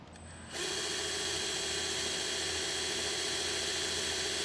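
A power drill runs steadily at close range, boring a pilot hole in an Audi B5 for rear compression adjuster access, with a continuous high whine starting abruptly after a brief quiet moment and holding constant.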